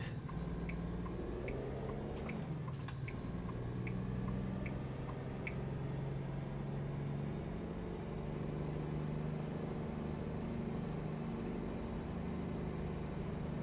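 A Caterpillar C15 truck engine with a straight pipe exhaust in an SCS truck driving game, a steady low rumbling drone that runs continuously, with a few brief higher clicks and knocks early on and no voices.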